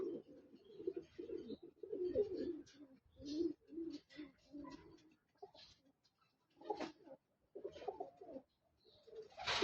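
Iraqi pigeons in New South Wales, Australia, coo in a string of soft, throaty bursts with short pauses between them, close by and fairly quiet, with no talking.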